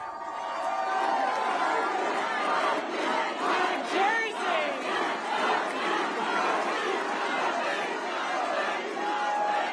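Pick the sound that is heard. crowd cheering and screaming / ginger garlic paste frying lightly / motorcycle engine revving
crowd cheering and screaming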